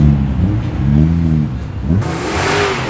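A Holden GDR XU1 car's engine revs in rising and falling pulses on a Sydney street while car spotting, loud and close, ending in a brighter rush of noise.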